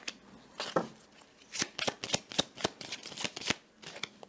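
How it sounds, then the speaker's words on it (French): Cards are drawn one by one from a tarot-style deck in a quiet room, giving a series of sharp, dry paper snaps and slides, close and fairly soft, with no talking. "Là, je vais prendre 3 cartes."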